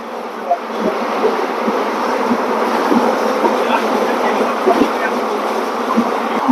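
Interior of the Ambala Cantt–Sri Ganganagar Intercity Express chair car running at about 120 km/h, a loud, steady rumbling roar with faint rhythmic clicks of wheels over rail joints throughout.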